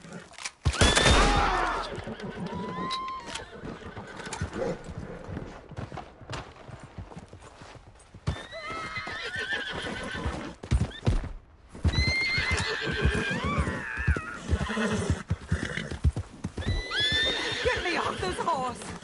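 Horses in the Red Dead Redemption 2 video game whinny repeatedly and loudly, with steady clip-clopping hooves running underneath, while people talk in between.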